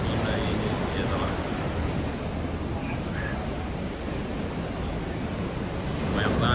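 Heavy surf rolls in at Bondi Beach in Sydney, where surfers ride big waves, a steady broad wash of breaking water and wind, moderately quiet and constant with no clear pauses.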